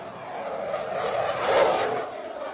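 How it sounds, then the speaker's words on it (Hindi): An Indian Air Force fighter jet roars past over the Ganga Expressway during a touchdown exercise, a loud sustained engine rush that swells toward the middle and then fades slightly. "जब वो देख रहे हैं कि ये लड़ाकू विमान आ रहे हैं,"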